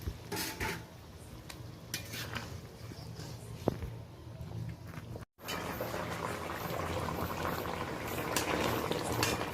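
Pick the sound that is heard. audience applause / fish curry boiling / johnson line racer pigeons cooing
fish curry boiling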